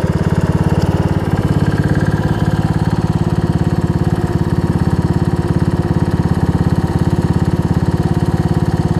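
A Weed Eater riding lawn mower engine runs steadily up close, a loud, even idle-like drone with a constant rapid pulse and no breaks or talk throughout.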